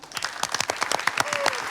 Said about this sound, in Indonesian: Kita beri tepuk tangan dulu untuk Pak Hermanto